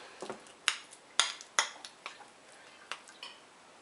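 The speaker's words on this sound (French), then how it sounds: "je vais commencer à en écraser un petit peu à la cuillère" A spoon mashes ripe avocado in a bowl, giving a few sharp, close clinks and taps at irregular intervals with soft squishing between them and no talking.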